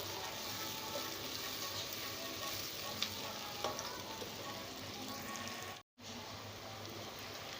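Onions softening in a pan for aloo qeema, a steady, close sizzle with faint stirring scrapes running continuously and a brief dropout near the end.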